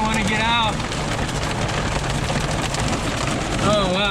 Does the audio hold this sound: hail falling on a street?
yes